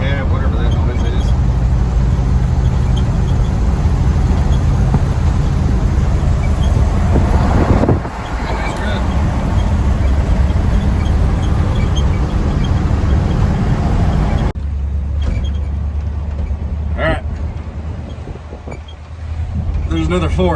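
A Ford F-350 crew cab pickup, on its first drive in 11 years, cruises at about 40 mph. Its engine and road noise form a loud, constant roar mixed with heavy wind buffeting on the microphone.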